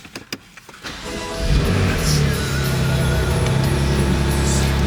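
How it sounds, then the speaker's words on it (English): A BMW M2 Competition's engine cranks and fires up after a few interior clicks, settling into a loud, steady idle rumble, heard close from inside the car. "So let's hop in, get the car started,"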